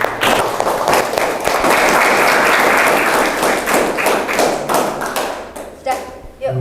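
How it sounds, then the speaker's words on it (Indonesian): A crowd applauds at the close of a physics teaching-practice class session, dense clapping sustained for several seconds and tapering near the end, with voices mixed in. "Aplaus untuk semuanya"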